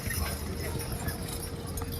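Horse hooves clip-clop steadily at a lightweight horse pull at a county fair, a fairly busy outdoor scene with a continuous background hum and some talking mixed in.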